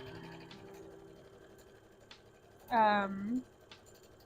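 Sewing machine at a home sewing session whirring in a short burst of under a second, its bobbin thread getting wrapped up, after quiet ticking and faint background hum.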